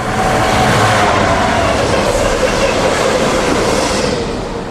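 British Class 66 diesel locomotive 66103 towing three other locomotives through Warwick Parkway station, a loud, steady rumble of engine and rolling wheels with faint rail clatter, fading slightly at the end.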